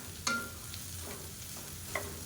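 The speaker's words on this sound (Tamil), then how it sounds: "இந்த பீன்ஸும் சேர்த்து வதங்கையில் நல்லா வதங்கிடும்." Chopped beans and onions sauté in a pan with a soft continuous sizzle, punctuated by two brief scraping stirs of a utensil, fairly quiet and close.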